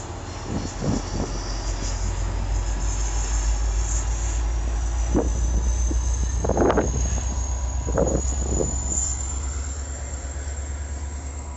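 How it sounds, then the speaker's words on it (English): A FrontRunner commuter train passes at close range, a steady loud rumble with intermittent clanks and rail noise rising and falling under a continuous high whine, with no talk over it. "Alright, here goes the train."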